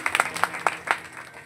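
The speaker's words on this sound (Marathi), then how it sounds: "त्या टाळकऱ्यांकरता एकदा टाळी वाजवणार" Audience at a kirtan gives a short burst of applause for the cymbal players, several distinct claps rising and then thinning out quickly, with no voices over it.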